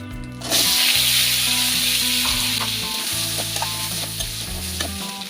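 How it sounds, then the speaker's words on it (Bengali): Potatoes hit hot oil, still used from frying shrimp, with an abrupt loud sizzle that holds steady and slowly eases, over a low humming drone. "এখন আলুগুলো দিয়ে দিচ্ছি"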